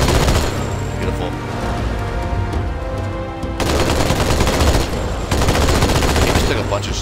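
Sustained automatic weapon fire in the Halo 2 campaign on PC, loud and close, in long rattling bursts with a brief lull in the middle, with faint talk underneath.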